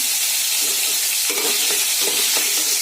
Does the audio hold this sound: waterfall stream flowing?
no